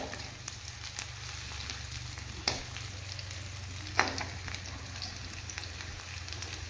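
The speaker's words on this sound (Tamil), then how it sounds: "சோம்பு வதங்கிருச்சு" Fennel seeds sauté in oil in a pan for egg rice, a quiet continuous sizzle and crackle with an occasional sharper pop or tap, no voices.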